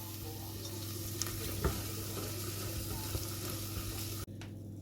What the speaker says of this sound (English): it's time to add some paprika. And stir that in really well.